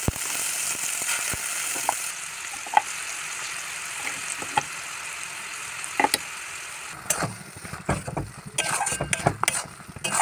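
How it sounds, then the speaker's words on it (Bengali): Spice paste sizzling in hot mustard oil in a kadai, a steady bright hiss throughout with scattered ticks and a burst of scraping and clatter near the end; no talk. "যে পেস্টটা এক্ষুনি বানিয়ে নিলাম সেই পেস্টটা পুরোপুরি এর মধ্যে দিয়ে দেবো।"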